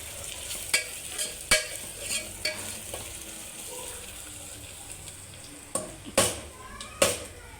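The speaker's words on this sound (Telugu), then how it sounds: "బాగా కడిగి ఉంచుకున్న మటన్ ఇందులో వేసేసేయాలి. బాగా కలుపుకోవాలి." Washed mutton goes into a pan with ginger-garlic paste and turmeric, sizzling and frying under repeated sharp clinks of a spoon stirring against the pot, close up, with a quiet hiss between strokes.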